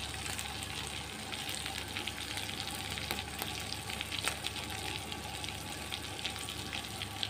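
Steady, loud sizzling and crackling of sauces and vinegar frying in a hot pan, continuous throughout with no talking.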